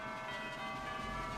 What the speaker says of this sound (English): Sounded like a Christmas carol with all the bells